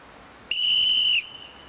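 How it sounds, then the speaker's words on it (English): A single loud, shrill whistle blast lasting under a second, heard alone against a faint outdoor background, from someone on the Fourth Plinth in a public square. "if we blow a whistle here"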